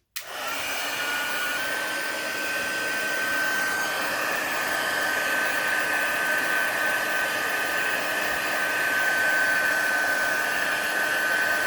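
A heat embossing tool blows a steady, loud hot-air whoosh as it melts embossing powder, starting abruptly and holding an even whine for the rest of the time.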